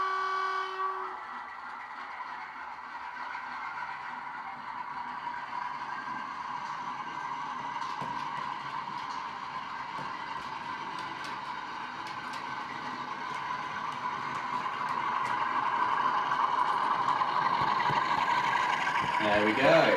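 A sound-fitted model diesel locomotive runs with a steady, humming engine drone that builds slightly toward the end, with a short horn-like tone at the start and a voice talking over it.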